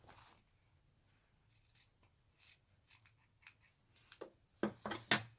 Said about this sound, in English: So just cut off the surplus corners.